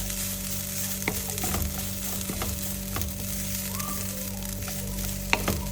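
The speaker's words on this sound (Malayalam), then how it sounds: "ഇനി ഈ തേങ്ങ നമുക്ക് നല്ലപോലെ റോസ്റ്റ് ചെയ്തെടുക്കണം" Grated coconut roasting in a pan for Kerala sadya-style kootu curry gives a steady, even hiss under a low hum, with a few faint spatula scrapes and clicks, and no voices.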